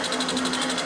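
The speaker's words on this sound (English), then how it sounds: "You can do the coolant pump one more time to ensure it works." Motor of the coolant pump unit on an EWAG RS2 radius and tangent grinder, running dry with no coolant: a steady close mechanical whir with a fast, even pulsing rhythm and a constant hum underneath.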